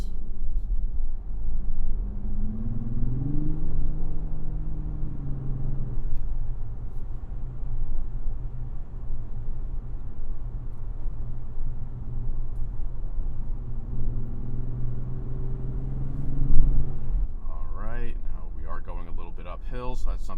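A 2025 Lexus GX 550 Luxury+ 4WD in Sport Plus mode accelerates hard, its engine a steady low rumble that climbs in pitch and holds under continuous in-cabin talk.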